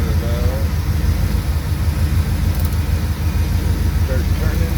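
A 1980 C3 Corvette engine idling steadily while its power steering is bled, a constant low rumble close by with some faint background noise, and someone talking over it.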